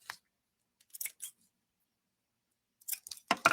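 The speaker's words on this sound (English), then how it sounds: "Then cut open this loop." Scissors snip open a thread loop in a quiet room, with a few short crisp clicks near the start and a quick cluster of sharper cuts at the end.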